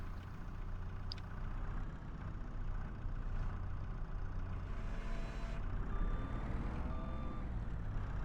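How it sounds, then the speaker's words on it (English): A skid steer engine in Farming Simulator 2025 drones steadily at close range with a low, even rumble, joined by thin beeping tones toward the end, with no talking. "Let's get the skid steer fired up again."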